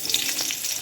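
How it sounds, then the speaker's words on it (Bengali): Green chilies sizzle in hot oil in a wok, a steady bright crackle of frying running through the short moment with no voices. "কড়াইতে কাঁচা লঙ্কা ফোড়ন দিলাম"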